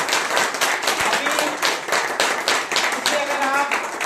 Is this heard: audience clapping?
yes